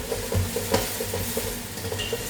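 Spices for crab masala sauté in a hot pan, with a steady sizzle and a regular scraping rhythm of stirring, close and fairly loud with no talk.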